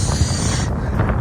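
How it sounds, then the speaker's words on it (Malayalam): Strong sea wind near Bahrain buffets the microphone with a steady, loud low rumble throughout the brief moment, with no talking. "നല്ല കാറ്റ്"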